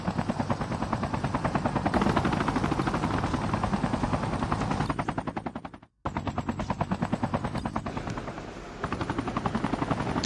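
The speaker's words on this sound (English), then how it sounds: "It looks like team 3 is also running 2 choppers." Two helicopters in a Call of Duty match throb with loud, fast, steady rotor chopping, broken by a brief gap and mixed with rattling machine-gun fire.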